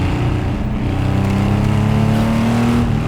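Air-cooled engine of an RWB Porsche 911 heard from inside the car, a deep continuous rumble with a rising pitch as it revs, loud and steady with no talk.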